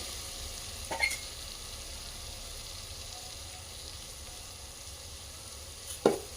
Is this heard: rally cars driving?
no